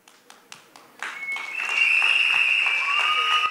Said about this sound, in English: we would like to give a big, big round of applause thanking Leela for her fantastic contribution.